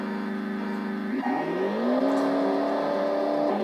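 A Formula One race car engine in the Famicom Disk System game Famicom Grand Prix: F-1 Race drones in a steady synthetic tone, then climbs in pitch as it revs up and holds a higher whine, loud and unbroken, with no speech.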